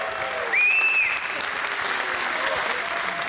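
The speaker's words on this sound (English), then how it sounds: "you've got a big round of applause there, Jason." Applause from a crowd at a World Pool Championship prize presentation, a steady dense clatter of clapping that swells briefly and stays loud throughout, with a faint whistle rising over it early on.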